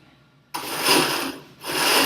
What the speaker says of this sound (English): we're going to put it in the blender. It'll make kind of a loud noise.